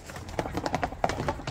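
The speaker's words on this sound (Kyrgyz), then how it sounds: "Ат эми ачылды окшойт, а жүгүргүсү келип." Horse hooves clattering at a run during a kok-boru style riding display outdoors, a quick uneven series of thuds with some faint voices and background noise.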